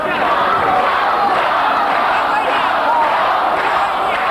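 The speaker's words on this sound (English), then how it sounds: "Now the crowd is getting behind Gonzales" A packed arena crowd at a 1985 lightweight boxing bout roars in a dense, sustained wall of cheering and shouting that holds at full strength throughout.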